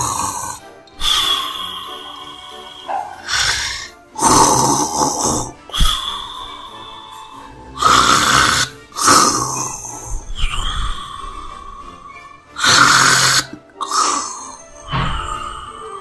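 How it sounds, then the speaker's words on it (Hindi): A cartoon wolf, voiced by a performer, snores loudly after a big meal, with a steady run of deep, rasping snores and breathy exhales that rise and fall in a slow rhythm, close and prominent. "ये तो बड़े जोर से खर्राटों की आवाज आ रही है।"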